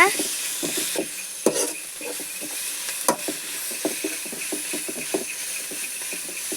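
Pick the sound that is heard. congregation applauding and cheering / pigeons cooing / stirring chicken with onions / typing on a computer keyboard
stirring chicken with onions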